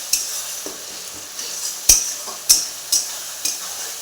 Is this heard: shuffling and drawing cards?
no